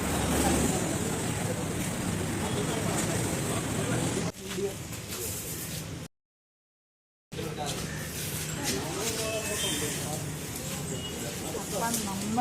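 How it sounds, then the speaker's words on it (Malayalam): A passenger boat cruising across Ashtamudi lake in Kollam, with a steady engine drone, water rush and wind buffeting, under a voice talking; a brief silent gap breaks the sound midway. "അപ്പം നമ്മൾ പോകുന്ന ബോട്ടാണിത്. ഈ അഷ്ടമുടിക്കായലിൽ കൂടെ ഒരു യാത്ര."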